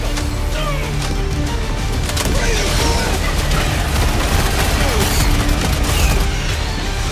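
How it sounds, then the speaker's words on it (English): A strafing run airstrike in the shooter Helldivers 2 is heard as a continuous loud roar of rapid cannon fire and explosions. The chaotic battle din runs throughout without a break. "I'm throwing a strafing run"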